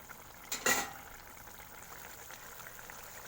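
Bhola fish curry with mustard paste simmering in a pan to thicken the gravy, a soft continuous bubbling hiss broken early by a short, bright scraping clatter of utensil against pan.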